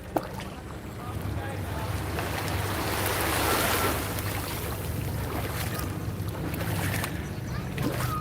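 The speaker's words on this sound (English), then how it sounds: "we'll do some ASMR and I'll be quiet while we listen to the waves for a little bit." Ocean waves at Grand Baie at sunset wash in with a steady broad rush that swells in the middle and settles again, mixed with wind and faint background noise.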